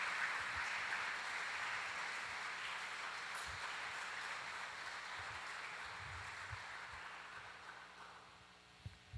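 Church congregation applauding at a worship service, a dense, continuous wash of clapping that holds steady and slowly thins toward the end, heard from a distance with no talk over it.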